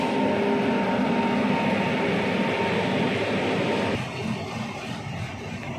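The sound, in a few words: train standing at railway platform 5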